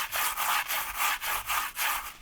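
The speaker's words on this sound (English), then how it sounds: "I'm just rubbing the bottom of the base of this and you'll see the material just kind of washes down" Paydirt being rubbed by hand against the base of a gold pan, a steady rhythmic scraping and washing with about seven evenly spaced strokes, close and fairly loud, no voices.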